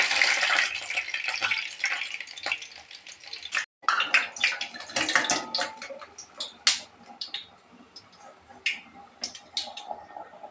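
Urad dal vada deep-frying in hot oil, a dense crackling sizzle that thins into sparse sharp pops and spits, close by, with a momentary break partway through and no talking.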